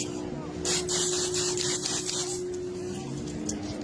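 Water sprays from a hose in steady hissing bursts, fairly close and loud, over a low background hum.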